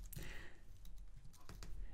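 Soft clicking of keys typed on a computer keyboard at a desk, quick irregular taps heard faintly and close, with no other sound alongside.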